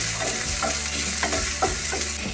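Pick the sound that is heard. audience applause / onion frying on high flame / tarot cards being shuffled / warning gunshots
onion frying on high flame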